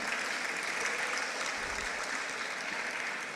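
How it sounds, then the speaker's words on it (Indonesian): An audience at a speech to civil servants bursts into sustained applause, a dense, even wash of clapping that carries on without pause. "Maksudnya apa tepuk tangan ini?"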